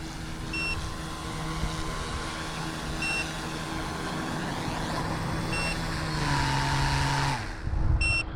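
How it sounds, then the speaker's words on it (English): An RC scale helicopter modelled on an OH-58 or UH-1D Huey whines steadily as several evenly spaced high beeps sound its low battery warning, with the motor pitch shifting near the end. "So the beeping is telling me, I'm sure that the battery is low on here."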